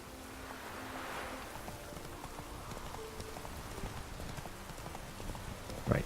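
Roach the horse gallops in The Witcher 3: Wild Hunt, hooves clip-clopping in a steady rapid rhythm over a soft ambient wash, moderately loud and continuous with no talk.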